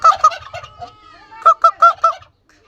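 A male farmyard bird, turkey or goose, gives loud, nasal honking calls in two bursts, a rapid run of honks, a short pause, then four more, close by with no talk over them.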